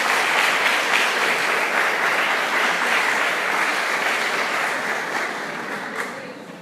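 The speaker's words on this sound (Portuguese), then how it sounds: "uma salva de palmas para Cristo, nosso Senhor." A church congregation applauds, a steady wash of many hands clapping together that holds strong and then slowly thins and fades near the end.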